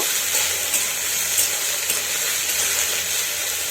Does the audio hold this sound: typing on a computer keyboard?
no